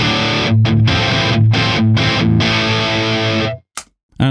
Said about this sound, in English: The distortion pedal.